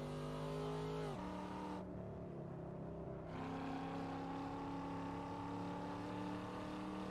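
Car driving on the Old Spanish Trail highway mod in Assetto Corsa, a loud steady engine drone whose pitch dips as the car brakes and then holds again, with no talk.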